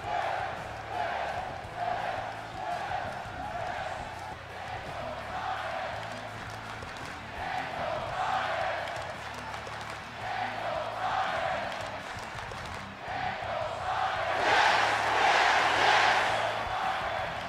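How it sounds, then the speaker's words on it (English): A WWE 2K22 video game arena crowd chants in a steady rhythmic pulse, repeated yes chants swelling and fading, rising into a louder roar near the end, with voice taunts mixed in. "all of Bryan's hidden audio content including yes chants and voice taunts"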